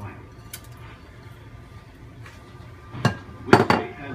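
One and a half cups of white rice tipped into a cooking pot for yellow rice with pink beans: a couple of short, loud rattling bursts near the end after a quiet stretch.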